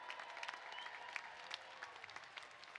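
Stadium crowd at a university commencement applauding alumni, a steady distant wash of clapping with faint cheering, fairly quiet and unbroken.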